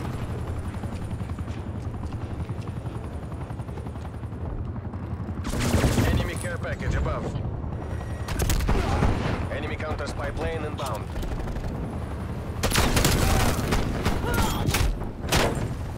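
Shotgun fire in Call of Duty: Cold War multiplayer, with a few loud bursts of blasts over steady engine and battle rumble, while someone talks over the action.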